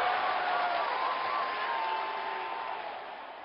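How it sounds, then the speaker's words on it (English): A packed cricket stadium crowd at a Rajasthan Royals versus Delhi Capitals match roars in a steady, dense wash of cheering and whistles, loud and sustained, fading slightly toward the end. "Crowd going mad here."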